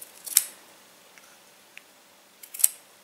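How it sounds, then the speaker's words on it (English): Scissors snip through the yarn threads of a crocheted tassel, two short, crisp cuts about two seconds apart, close and fairly quiet, with faint handling sounds between them and no voices. "So I'm going to come with my scissor and underneath,"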